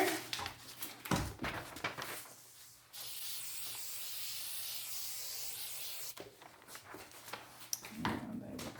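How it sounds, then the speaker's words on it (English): Aerosol adhesive hisses steadily from a spray can for a few seconds in a workshop, framed by softer rubbing and handling noises before and after. "And then I'm going to spray the pattern."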